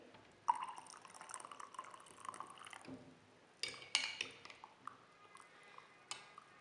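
Heated sweetened milk for Kashmiri chai poured into a cup, a soft, faint trickle with small splashes and drips and a few light clinks of the vessel.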